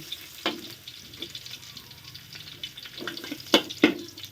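Garlic fries in hot oil in a wok while pad see ew is being cooked, a continuous close sizzle broken by a few sharp clinks of a utensil stirring, with no speech.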